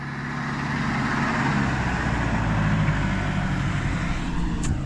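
A tractor hauling a silage trailer during second-cut grass silage on dry ground, its engine a steady near rumble with continuous droning that stays loud and even throughout, no talk.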